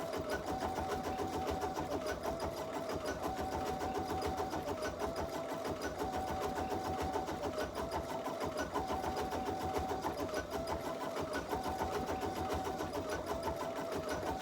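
An embroidery machine stitching a project, a steady close mechanical whir with a fast even needle rhythm running unbroken throughout, moderately quiet.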